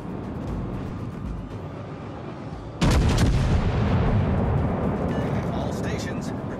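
Naval artillery firing in World of Warships: Legends: a single loud, heavy gun blast partway through, rolling into a long booming decay over a low background rumble.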